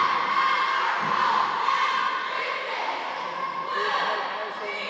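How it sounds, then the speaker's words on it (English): A middle school crowd at a school game cheers and shouts continuously, young voices blending into a steady, lively roar that swells and dips slightly throughout. "the Broncos have a lot of cheer,"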